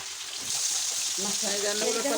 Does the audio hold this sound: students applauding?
no